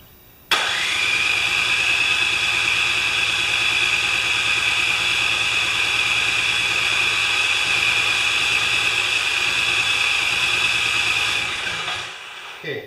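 A Craftsman 24-inch snowblower's electric starter cranks steadily for several seconds, a loud whirring, rattling drone that starts abruptly and keeps an even rhythm before cutting off without the engine catching.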